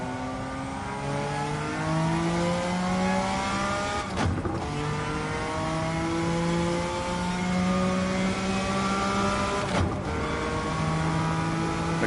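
Race car engine in Gran Turismo 7 held at full throttle, a loud, steady harmonic drone that climbs in pitch through repeated gear-like sweeps, with two brief sharp shifts breaking the roar.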